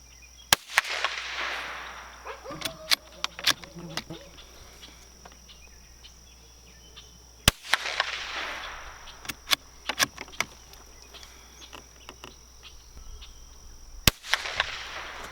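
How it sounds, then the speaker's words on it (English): Three sharp cracks from a Winchester Wildcat Xpert rifle fired at a target, spaced about seven seconds apart, each followed by a short outdoor echo, with faint insect chirping and small clicks between shots. "we're going to take 5 shots at that center target up there and see how it does"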